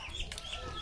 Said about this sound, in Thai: เป็ดนะ